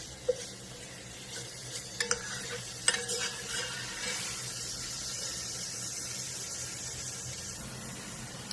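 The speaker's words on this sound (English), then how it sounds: "the onions and garlic and the sausages. So let's just fry it down." Sausage, onions and garlic sizzle steadily in a hot frying pan, with a few utensil clinks and scrapes of stirring near the start, close and moderately loud.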